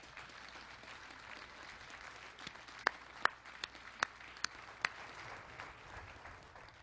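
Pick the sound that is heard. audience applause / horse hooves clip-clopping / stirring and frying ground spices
audience applause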